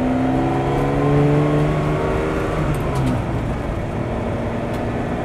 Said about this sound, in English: it's actually an exhaust cackle